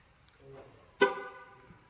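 At a car dealership in Azerbaijan, a car horn gives one short, sharp honk, preceded by brief quiet movement and faint background noise.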